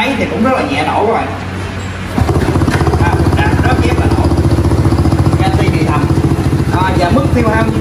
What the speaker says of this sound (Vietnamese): Hoặc là mình đạp máy thì cũng rất là nhẹ nổ các bạn.